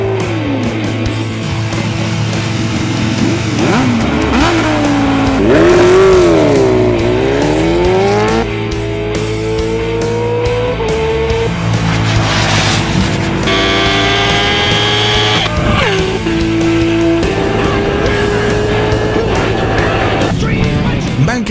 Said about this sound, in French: Pour son premier run, Cluman a choisi la KTM Super Juke R, le roadster le plus puissant de sa catégorie.